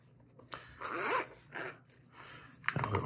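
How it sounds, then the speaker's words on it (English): A small zipper on a microfiber pouch pulled open in several short, raspy bursts, close up and fairly loud, with brief pauses between the pulls. "A little zipper here."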